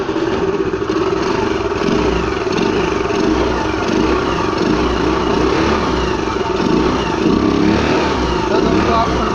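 A Yamaha Fascino scooter engine runs steadily after an air filter change, a continuous broadband engine drone with a low rumble that holds even and fairly loud throughout, with no voices over it.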